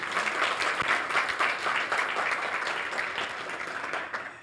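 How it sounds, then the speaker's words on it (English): A room full of people applauds presenters at a community event, a sustained, even wash of many hands clapping that holds for several seconds before starting to fade. "Ladies and gentlemen, please give them a proper round of applause."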